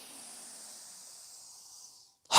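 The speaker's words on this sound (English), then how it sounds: "So go ahead and inhale. Strong exhale." A long, airy breath pushes out in a steady hiss during a yoga breathing exercise. It fades over about two seconds, and a sudden loud burst follows at the end.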